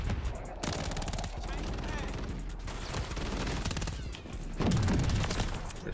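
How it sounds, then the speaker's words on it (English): Enemy gunfire in Call of Duty MW3 multiplayer, rapid bursts of shots crackling continuously through the clip with a heavier thump near the end, while a player's voice talks over the shooting. "They're shooting me through the damn crate."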